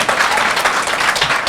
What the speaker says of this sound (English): if we're going to applaud for something,